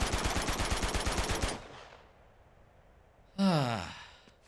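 Rapid automatic AK rifle fire in Uncharted 2 rattles in a fast, even burst for about a second and a half, loud and close, then stops; a short sighing vocal sound follows after a quiet gap.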